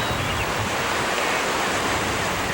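Sea waves at the base of the Cliffs of Moher in County Clare, a sheer five-mile rock face, making a loud, continuous rushing surf mixed with wind noise, no voices.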